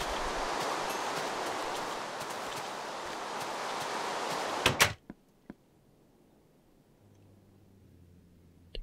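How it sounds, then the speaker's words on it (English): Steady, loud hiss of rain falling in Minecraft with the BetterSound mod runs for about five seconds, then cuts off abruptly, followed by a few sharp clicks and faint low ambience. "you can hear the rain just slightly outside"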